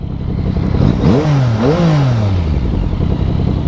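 A 2023 Yamaha MT-09 motorcycle revving in town, loud and close, its engine pitch climbing and falling twice through quick throttle blips over a steady idle rumble.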